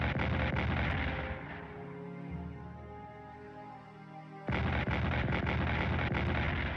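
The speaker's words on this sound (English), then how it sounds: "Massive artillery bombardment on our front line just outside of Mainz." Artillery bombardment rumbles through a World War 1 strategy game: heavy booming shell blasts, then a lull with a low fading roar before another loud burst of rapid explosions.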